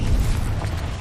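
A Bombarda spell blast in Hogwarts Legacy, a loud, dense rumbling boom filling the whole moment, with no voices.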